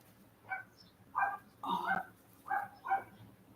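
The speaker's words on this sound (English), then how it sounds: "Neighborhood dog almost bought it that time. Stop barking at that damn car, fool." A neighborhood dog barks at a car outdoors, five sharp barks in an uneven rhythm over steady low background noise, fairly close and moderately loud.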